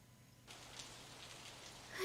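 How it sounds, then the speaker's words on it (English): Rain begins in the Steins;Gate 0 visual novel, a soft, steady patter of drops that starts abruptly after a near-silent moment and holds at an even level, with no voices. "it started to rain."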